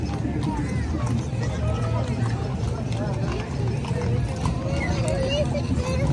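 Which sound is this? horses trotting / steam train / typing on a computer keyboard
horses trotting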